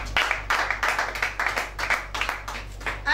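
A church congregation claps during a worship service, a steady rhythmic beat of many hands at moderate volume, continuing evenly throughout without speech.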